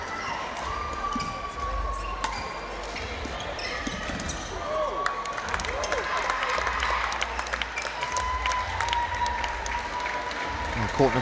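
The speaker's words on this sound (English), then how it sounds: "a very long audible cheer" A crowd of spectators at a university badminton men's championship final cheers and applauds in a long, sustained roar, with shoe squeaks from the court and a commentator talking over it.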